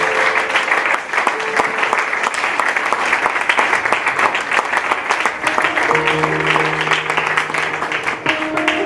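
A church congregation applauds loudly and continuously at a Sunday service, dense clapping close and full throughout, with a few faint voices and tones mixed underneath.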